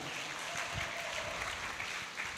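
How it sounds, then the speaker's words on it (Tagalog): A congregation at a church praise festival in Pampanga applauds steadily, a dense, even wash of clapping that holds at a constant level from start to finish. "Isang malakas na palakpak para sa Panginoon"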